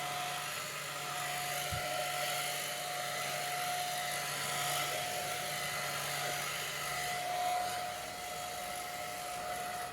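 A spray gun applies acrylic lacquer paint to an O gauge DJH B1 locomotive kit, giving a steady continuous hiss with a thin high whine running throughout, close and even, on a humid day.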